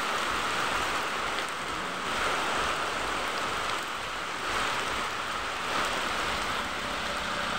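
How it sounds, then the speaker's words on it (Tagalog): Heavy rain falls continuously, a thick hissing wash that swells slightly in waves without letting up. "Malakas ang ulan guys."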